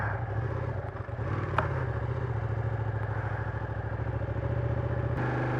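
A motorcycle engine running steadily as the bike sets off, a low rumbling chug with faint clatter, fairly close and even in loudness.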